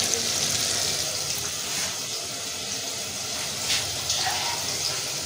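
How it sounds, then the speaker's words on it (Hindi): Water pours steadily from a tap or vessel onto rice in a pot, a continuous gushing splash that runs the whole time at moderate loudness. Faint sounds of movement run beneath it. "अब पानी लगाते हैं।"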